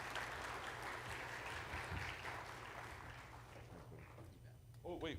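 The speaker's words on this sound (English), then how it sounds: "Let's give Logan a round of applause" Conference audience applause at an opening session, a steady crowd clapping that fades gradually with some voices mixed in, ending with a short spoken voice.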